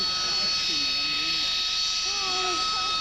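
A vectored-thrust jet engine that blasts air through four side nozzles roars at an airshow as a steady, loud, high-pitched whine and rush with a sharp tone, while a commentator talks over it.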